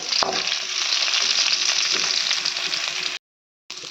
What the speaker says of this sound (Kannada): ಟೊಮೆಟೊ ನೀರುಳ್ಳಿ ಎಣ್ಣೆಡು ಫ್ರೈ ಮಾಡ್ತಾ